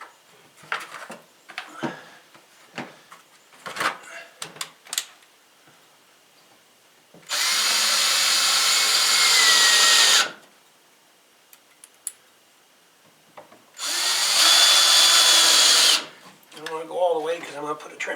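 Cordless power drill driving a screw through a wooden trim piece on a chicken coop, two loud sustained whirring bursts of about three and two seconds, close by, with scattered knocks and handling clatter between them.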